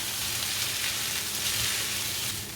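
Rice stirred and frying in a hot pan for egg fried rice, a steady loud sizzle with scraping, continuous and close with no talk.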